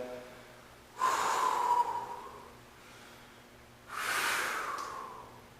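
Two heavy breaths, deep and forceful, are drawn and pushed out during free-weight squats, close to the microphone with a quiet pause between them.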